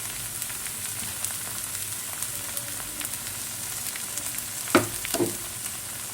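Steady close sizzle of maida flour dosa batter and egg frying on a hot pan, with a couple of brief scraping knocks near the end.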